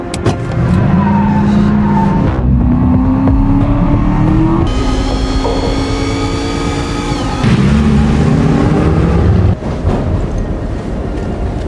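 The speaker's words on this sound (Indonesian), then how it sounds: "Ia pun mencuri mobil Scott dan membawanya pergi." A stolen car pulls away in a film scene, its engine droning loudly and steadily with shifting tones and passing rushes of wind, filling the whole stretch without voices.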